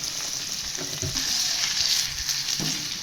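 Paneer fried rice being stirred in a hot pan, a steady close sizzle with a few scraping spatula strokes, no voices.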